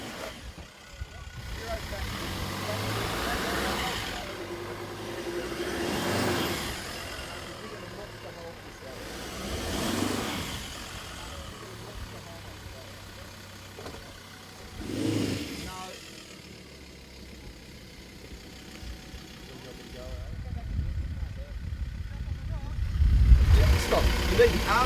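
Ford Ranger 4x4 crawling over rocks, its engine revving in repeated surges roughly every five seconds with idle between, heavy low rumble near the end, and people talking over it.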